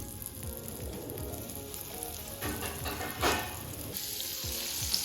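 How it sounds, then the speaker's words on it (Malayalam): Chicken pieces dipped in cornflour deep-fry in oil with a soft, steady bubbling sizzle, light clinks and stirring knocks underneath, fairly quiet and close, no voices. "ഇതുപോലെ നമ്മൾ ഫുള്ളായിട്ട് ഫ്രൈ ചെയ്തെടുക്കുകയാണ്."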